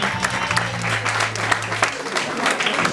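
Congregation applauding at a religious wedding in Paris, steady clapping from a crowd indoors, with a voice and a sustained low tone fading out partway through.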